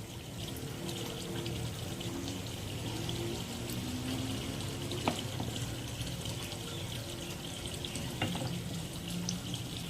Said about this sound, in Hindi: 2 कप ऑयल डालना है हमने।